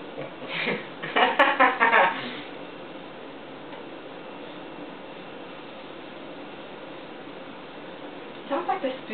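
A spoon clinks against a cereal bowl in quick bursts of bright ticking taps near the start, then falls quiet under a low background hiss before another short run of clinks at the end.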